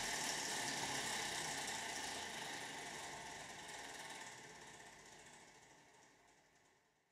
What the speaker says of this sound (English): the leave vac ran at lower speed to avoid runaway due to loadless operation